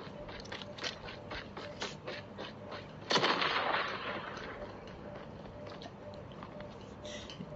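A sniper rifle shot in a Call of Duty esports match rings out as one sharp, loud crack with a short echoing tail, amid quieter game effects and a commentator talking throughout.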